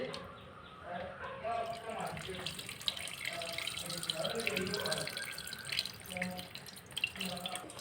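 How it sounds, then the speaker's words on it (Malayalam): Tamarind water poured into a cooking pot for a fish curry, a continuous splashing, running-water flow with some drips, while a voice talks over it. "പുളിവെള്ളം ഒഴിക്കാൻ പോവുകയാണ്"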